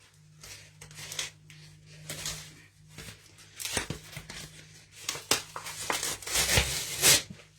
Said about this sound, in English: Yes, that is the sound of paper ripping.